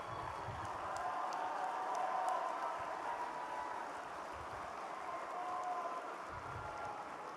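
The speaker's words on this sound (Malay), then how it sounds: "kita berikan standing ovation, berdiri ramai-ramai. Berikan tepukan bergemuruh." An audience at a national launch ceremony gives a standing ovation, a continuous, fairly faint roar of applause that holds steady for several seconds.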